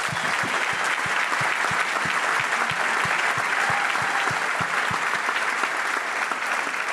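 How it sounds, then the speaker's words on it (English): An audience at a sports preview event claps in sustained applause, a dense even wash of many hands with a few distinct close claps, steady and fairly loud throughout. "So if you wouldn't mind helping me give them a round of applause too."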